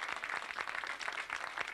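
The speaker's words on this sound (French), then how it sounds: "vous pouvez applaudir bien fort le classement de la montagne" Crowd applause for the mountain classification at the podium of the Circuit des Vignes cycling race in 1990, a steady, dense wash of many hands clapping throughout without a break.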